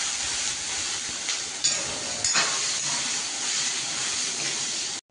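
Raw plantain pieces frying in hot oil in a wok, a steady close hiss and sizzle throughout with a couple of sharper crackling bursts as the pieces settle, no talking.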